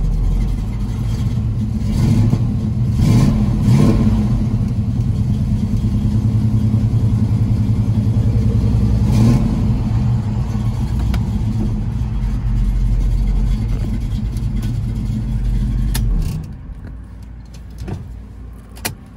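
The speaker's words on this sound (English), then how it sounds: "We'll rev it up just a little bit and watch the tach work." A 1969 Chevrolet Camaro Z/28 with a 4-speed transmission idles as a loud, steady, deep rumble for about sixteen seconds. It gives a few brief revs, then cuts off to near silence.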